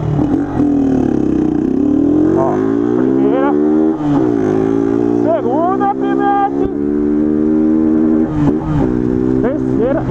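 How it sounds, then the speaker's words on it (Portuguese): A warmed-up fuel-injected motorcycle engine revs up and down repeatedly in rising and falling sweeps, held loud and close throughout, with a few sharp pops as the ignition is cut to make it backfire. "Eu acelero, desligo, acelero de novo e ligo o punho"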